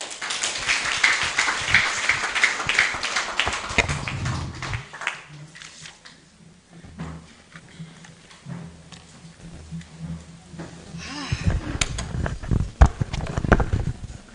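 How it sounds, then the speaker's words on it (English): Audience clapping at a youth conference, a dense burst of hand claps in the opening seconds that fades out and gives way to quieter room noise and scattered taps, with a brief flurry of clapping again near the end. "Was that hand clap enough?"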